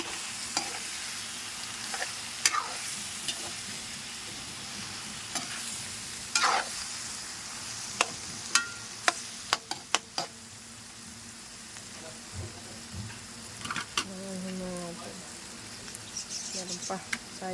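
Four eggs frying and stirred in a pan in a nipa hut kitchen, with steady sizzle and scattered scraping clicks of the utensil; faint birdsong sounds in the background.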